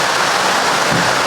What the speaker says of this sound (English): as it has started to rain.